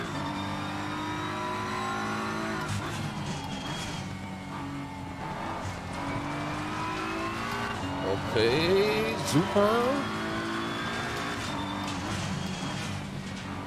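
A race car engine in a video game revs and drives with a standard setup, a steady whining drone that shifts pitch through gear changes and braking, with someone talking over it.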